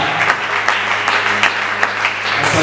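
A church congregation breaks into loud, sustained applause close by, many hands clapping in a dense, continuous wash with scattered sharper claps standing out.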